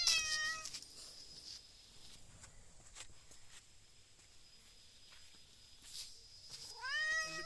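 A pet cat meows several times indoors, with a short run of calls at the start and another near the end, close and fairly clear, separated by quiet stretches with faint movement and shuffling.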